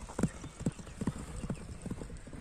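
Horse hooves clip-clopping during a horse race, a faint run of regular thuds about twice a second with a distant background murmur.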